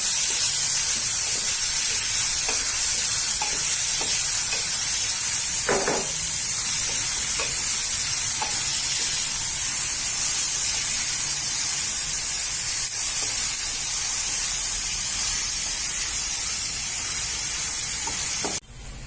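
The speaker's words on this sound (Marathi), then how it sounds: "कांदा चांगला ब्राऊन रंगाचा होईपर्यंत शेकून घ्या" Onions fry in a modest amount of oil in a pan, a loud, dense, steady sizzle and hiss that runs unbroken, with a few brief stirring knocks early on and no voices.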